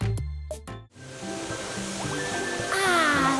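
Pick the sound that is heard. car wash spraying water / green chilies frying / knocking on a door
car wash spraying water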